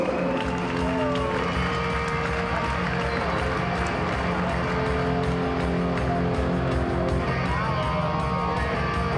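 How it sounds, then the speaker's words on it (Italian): Crowd applause and noise fill a kickboxing event hall in Imola, loud and continuous throughout, with a steady layered din and tonal music or voices running underneath. "Grazie signori, un bel applauso!"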